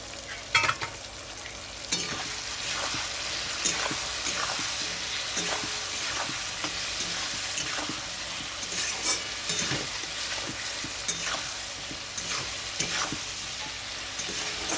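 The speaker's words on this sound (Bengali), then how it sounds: "একটু ভালো করে কষিয়ে নিচ্ছি।" Salted, turmeric-coated prawns sizzle steadily in a hot pan while a utensil scrapes and stirs them at intervals, with no talking.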